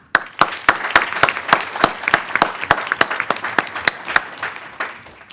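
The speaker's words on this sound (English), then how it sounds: "thank them with a round of applause" A scattered round of applause from an event audience, with distinct individual claps standing out in an uneven rhythm over a softer wash of clapping, fairly close and fading toward the end; no talking.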